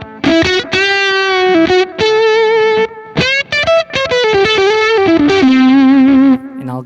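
Electric guitar through a fuzz and tube screamer pedal in germanium mode, loud and smoothly saturated, played as a run of sustained notes and chords with brief gaps, alone without talk.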